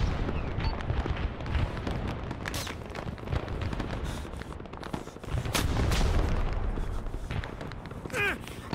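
Artillery rounds impacting in the video game Arma 3 during a Vietnam battle at LZ X-Ray, a steady barrage of booms and rapid gunfire mixed with faint voices.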